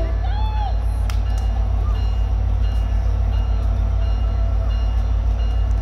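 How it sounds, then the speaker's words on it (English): A Caltrain holiday commuter train departing Mountain View station rumbles steadily with a deep, constant drone, and a few faint squeals and a brief metallic clank sound over it. "The train's leaving!"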